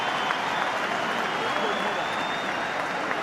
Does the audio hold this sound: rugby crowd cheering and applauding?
yes